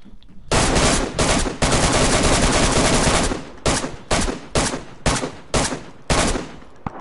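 Loud bursts of automatic gunfire in DayZ, a long sustained volley followed by several shorter rapid bursts, close and dominant with no voices.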